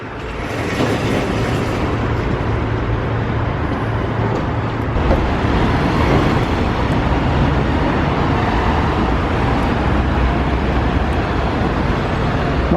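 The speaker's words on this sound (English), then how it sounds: "I can see up there's about 5 buses, and there's another one here at the side of me" Steady, loud traffic roar outside Glasgow Central Station as city buses and other vehicles idle and pass, a continuous low rumble without pauses.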